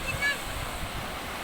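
Sea waves on Pantai Jangka beach in Bireuen, Aceh, a steady rushing surf wash mixed with wind noise on the microphone.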